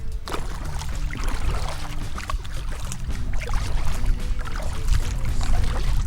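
A canoe moving across open water on a windy day gives a steady, close sloshing and lapping of water against the hull, continuous throughout with wind noise and no talking.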